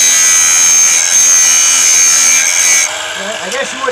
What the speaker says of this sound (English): So see how I got the grinder and I invert it this way just because it fits better.